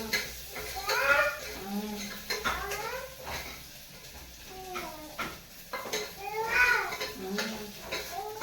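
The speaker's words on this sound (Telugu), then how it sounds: "అక్కడైతే మా కోసం వంట చేస్తూ ఉంది" Home kitchen cooking, with stirring and frying clatter under ongoing talk and chatter, steady scraping and pan noises throughout.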